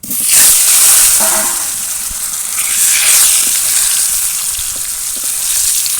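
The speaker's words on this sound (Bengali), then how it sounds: "এবার এই তেলের মধ্যে সেদ্ধ করে রাখা আলুগুলো ভেজে নেবো" Boiled potatoes fry in hot oil for a biryani lunch, giving a loud, steady sizzle and hiss with faint stirring crackles throughout and no voices.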